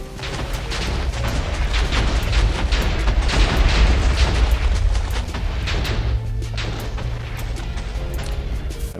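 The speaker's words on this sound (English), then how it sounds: "Who needs streetlights when you have TNT?" TNT blocks detonating in Minecraft, a long rolling chain of deep booming explosions piling on top of each other, loud and continuous, easing slightly toward the end with no talk.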